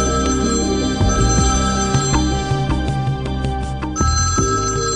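A telephone rings with a repeating electronic ringtone, steady and fairly loud through the whole stretch, sounding alone with no voices.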